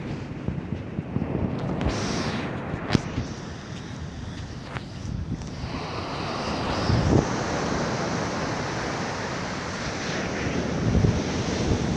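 Ocean waves wash onto an eroded beach in a continuous rushing roar, with gusts of wind buffeting the microphone and no one talking.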